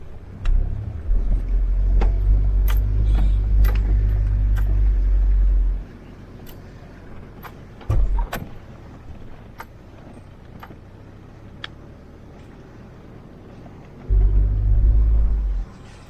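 A truck on a mountain road between Chilas and Gilgit gives a loud, deep engine rumble for several seconds. It drops away, surges briefly, then returns near the end, with scattered clicks in the quieter stretches.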